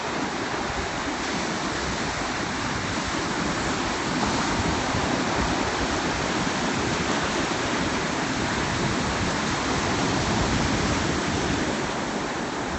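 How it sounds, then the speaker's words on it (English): Small ocean waves break steadily on a beach, making a dense, constant close-up roar of surf and wash that never lets up. "Man, that's such beautiful waves."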